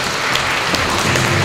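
Brief burst of loud, dense audience applause at a regional journalism awards ceremony in Vologda Oblast, heard close and continuous for just over a second.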